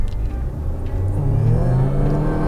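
A car pulls away from about 30 km/h in normal D mode, its engine rumble rising steadily and close by, with no talking.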